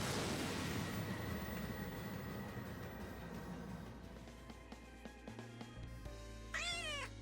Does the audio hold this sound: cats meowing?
yes